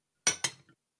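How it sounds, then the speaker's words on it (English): Dishes being washed in a South Park cartoon scene: two quick clinking clatters of plates and utensils, then a faint trailing rattle, with no talking. "they got him washing dishes"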